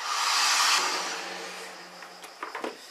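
A hair dryer blows loudly on a watercolor postcard, a steady airy rush that eases off and changes pitch partway, followed by a few faint handling clicks.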